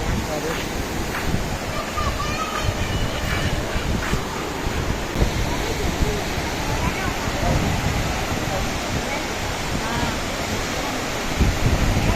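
A continuous, loud roar of rushing water from a large waterfall in Kerala fills the whole stretch, steady and unbroken, with wind buffeting the microphone.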